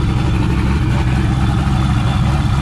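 A 1,400 horsepower twin turbo Corvette idles up close, a loud, steady, deep engine rumble with an even throb and no voices over it.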